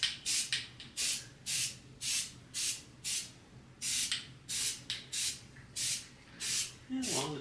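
Spray paint applied to a tile in an even coat: a quick series of around a dozen short, soft hissing bursts in a steady back-and-forth rhythm, close by.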